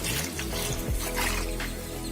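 Water from a kitchen sink faucet with a white adjustable spray head set to shower mode, a steady broad hiss of spray hitting the basin, close and continuous throughout.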